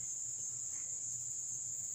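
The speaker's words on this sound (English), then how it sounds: "You just hear the birds, the crickets," Crickets chirp in a rural backyard, a faint, continuous high trill over quiet low background hum, with no other sounds standing out.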